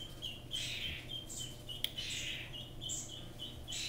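A hand-fed juvenile American crow calls in a run of repeated short, high, raspy cries, close by and fairly loud, with a few brief pauses between bursts.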